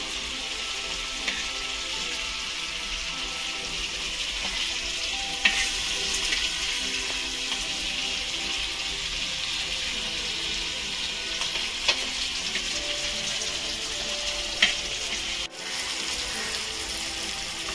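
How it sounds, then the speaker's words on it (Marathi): Mushi, a small shark, fries in oil over a wood-fired clay chulha in an Agri-style home kitchen. A steady, even sizzle runs throughout, with a few faint clinks and scrapes from turning the pieces and no talk. "मस्त ते फ्राय होत आहे"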